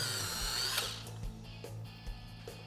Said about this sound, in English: He's gonna clamp the lever and just move in and come through into the rib bone and peel it right out.